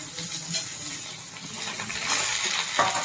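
Diced potatoes and pointed gourd fry and get stirred in a pan, a crackling sizzle with scraping spatula strokes and a couple of light metallic taps, close and steady, with no talking.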